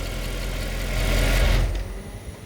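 A 2008 Mercedes CL63 with about 93,000 km runs at a steady, rumbling idle up close. The engine swells slightly in the middle, then drops away as it is switched off near the end.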